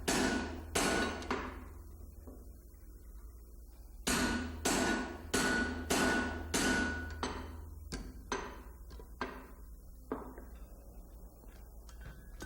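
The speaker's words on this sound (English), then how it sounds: "he's using a spring fuller, this time to form the shank in front of that shoulder" Blacksmith hammering hot steel on an anvil with a spring fuller: loud, ringing metallic strikes in quick clusters, pausing briefly between volleys of blows.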